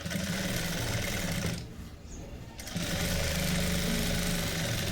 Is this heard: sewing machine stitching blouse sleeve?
yes